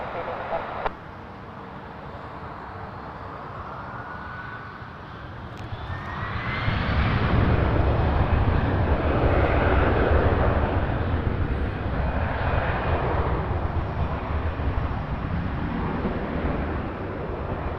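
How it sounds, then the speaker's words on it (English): A Delta Airbus A321 airliner at Toronto Pearson airport, its engines building from a steady roar into a loud, broad rumble that holds for the rest of the clip, with a faint rising whine above it. "We're starting with the Delta A321 heading to Atlanta."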